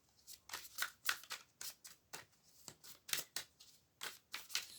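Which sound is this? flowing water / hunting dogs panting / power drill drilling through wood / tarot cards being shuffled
tarot cards being shuffled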